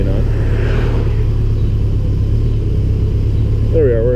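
A Honda CB1100 motorcycle engine lugs at low RPM in a low gear, giving a loud, continuous throbbing rumble with a steady pulse, and a voice breaks in briefly near the end.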